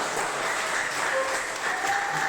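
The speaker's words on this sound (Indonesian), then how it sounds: "Jadi tepuk tangan dulu." Pupils applaud in a classroom, a short, dense burst of steady clapping that fills the room at even loudness from start to finish.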